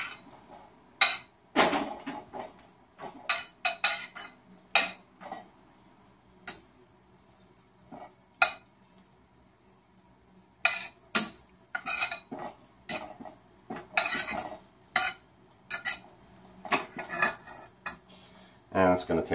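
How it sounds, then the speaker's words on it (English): Chopped bacon sautéing in a pan for stuffed mushrooms, heard mostly as loud metal utensil scrapes and clanks against the pan in irregular bursts, with a faint sizzle underneath. "now we're going to saute the bacon"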